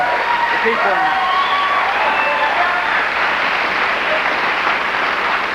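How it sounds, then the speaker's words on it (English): A late-night talk show studio audience applauds warmly with dense, sustained clapping and a few whoops and cheers. The noise holds steady throughout while a voice speaks over it. "That was a mercy applause."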